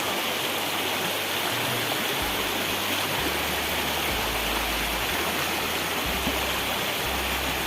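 Steady rushing water of a flowing river in the Konkan region fills the scene, loud and continuous with no voices.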